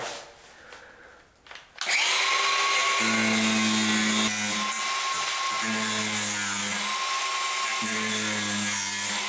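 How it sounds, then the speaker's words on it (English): A power grinder works metal on a homemade formula cart, starting after a short quiet lead-in and then whining steadily and loudly, with its pitch dipping briefly a few times as it bites into the workpiece. "We're talking about some real precision grinder work here."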